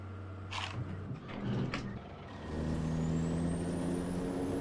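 A heavy truck in a logging video game pulls up near a hillside loading spot, with a short hissing air-brake release followed by the low steady rumble of the idling engine.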